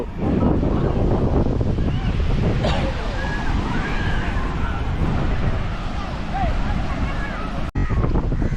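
Wind buffets the microphone while ocean waves roll and wash steadily on Mypadu beach near Nellore, a continuous broad rush with faint voices in the background.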